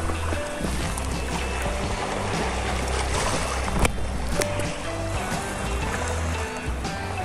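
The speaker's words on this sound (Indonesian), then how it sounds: "Suara gemercik air dan deburan ombak dapat membuat suasana hati menjadi" Water splashing with waves breaking on the eastern shore of Bembang Beach, a steady close wash of surf and trickling water with low rumble, continuous throughout with no talk.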